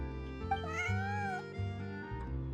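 A cat meows in the video game Genshin Impact, one drawn-out mewing call rising and falling over steady background game music, heard up close with no talking.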